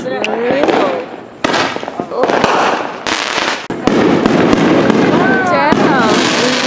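Fireworks set off by a family on vacation in Arizona, with repeated sharp bangs and crackling bursts throughout, loud and close, while people talk and shout over them.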